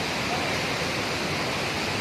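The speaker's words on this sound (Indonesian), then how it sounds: "Kita berada di air terjun Selawe," Selawe waterfall in Gomo, South Nias, roaring as a dense, steady broadband rush of falling water, continuous and close with no gaps.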